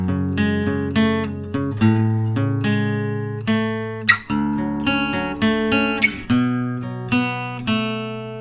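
Acoustic guitar playing a song in the section after the intro, with plucked, ringing notes and chords in a steady rhythm, close and clear with no talking.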